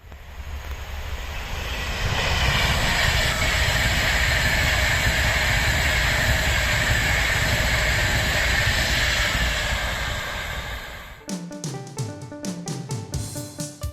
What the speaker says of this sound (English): I'm gonna cleanse the palette with a nice shot of a pendolino